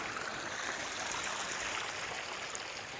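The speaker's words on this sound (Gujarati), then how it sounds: "હા, પાણી ચાલુ છે." Running water at an outdoor village spot, a steady, even rushing hiss that continues without a break, moderately close and alone.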